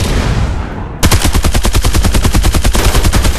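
Automatic gunfire from the Farlight 84 shooter game, a loud rapid burst of evenly spaced shots starting after a brief whooshing lead-in and rattling on without pause.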